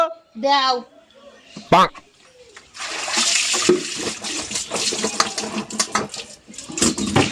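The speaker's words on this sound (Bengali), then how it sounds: "দাও এই আলুগুলো একটু ধুয়ে ফেলো তো" Potatoes being rinsed in water in a home kitchen, a steady splashing and clattering wash with dish and utensil knocks, close and fairly loud, following brief talk at the start.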